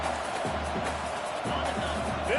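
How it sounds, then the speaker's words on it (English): Steady stadium crowd roar from the College Football 25 video game fills the whole stretch, a dense, loud wash with a few swells and thumps and no clear break. "This crowd bringing the energy and noise early."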